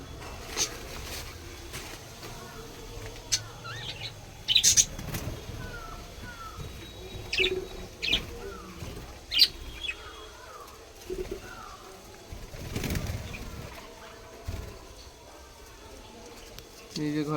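Birds chirp and call in short, scattered bursts from inside a bird house, with occasional soft cooing over steady low background noise.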